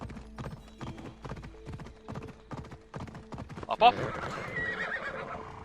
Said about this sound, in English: God damn, this horse is fast.